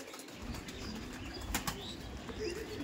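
Madrasi pigeons flap their wings close by in a steady flurry, with a soft coo or two beneath the wingbeats and no talking.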